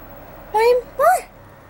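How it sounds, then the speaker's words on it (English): Two short, clear cat meows close by, the second rising slightly, over a quiet room background. "Why are you meowing?"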